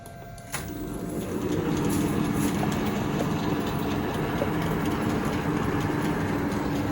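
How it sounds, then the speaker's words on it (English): An engine lathe runs with its change gears engaged, giving a steady, loud mechanical whir and rattle with a low hum that continues unbroken after a click near the start. "So right now the change gears are all running"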